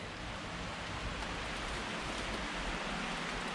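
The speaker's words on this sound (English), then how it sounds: "because it is raining and I am getting very wet" Steady rain falls outdoors on a wet coastal walk among brambles and logs, a dense continuous hiss close around the listener with no voices.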